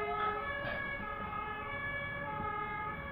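An ambulance siren wails steadily with its pitch holding level, loud and close, alongside a faint road rumble, no talking.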